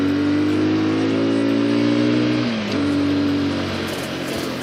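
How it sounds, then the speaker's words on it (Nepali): A motorcycle engine revs close by, a sustained loud drone whose pitch holds, dips briefly and then settles, with no talking. "आज बाइकको साउन्ड पनि मिटिरहेको छ"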